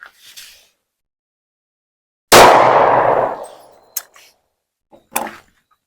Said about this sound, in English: Next caliber we're going to shoot would be a 40 Smith & Wesson.